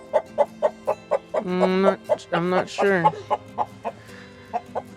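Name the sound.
chickens clucking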